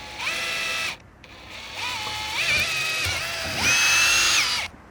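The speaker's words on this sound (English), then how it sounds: "we're going to go ahead and use our 1/4-inch drill bit, and we're going to go ahead and drill these other 2 holes" A power drill with a 1/4-inch bit whirs in bursts, its motor pitch rising and falling as it bores vertical holes to mount a fish de-hooker, with brief pauses between runs.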